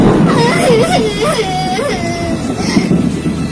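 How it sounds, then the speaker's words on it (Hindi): Two small cartoon children cry and whimper in wavering sobs, close and loud, with talking over them. "उसी डाल की दूसरी तरफ 2 छोटे बच्चे रो रहे थे।"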